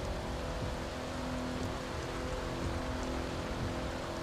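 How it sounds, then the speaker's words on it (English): Rain in The Crew 2 racing game while driving an Aston Martin Vanquish, a steady broadband downpour hiss with a faint low hum beneath it, continuous and even throughout. "And now it's raining, so that's even awesomer."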